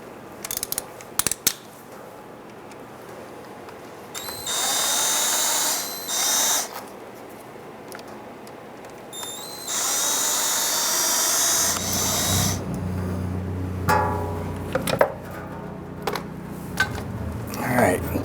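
A hand tool, likely a ratchet, breaks loose the valve body screws on a 2005-2010 Chrysler 300 transmission, with bursts of clicking and grinding separated by pauses, close by and fairly loud.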